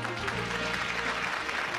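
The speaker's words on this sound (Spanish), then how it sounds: "Aplauso para ella, lo pido." A studio audience at a Spanish television comedy show applauds, producing a steady, dense wash of clapping that fills the whole short stretch.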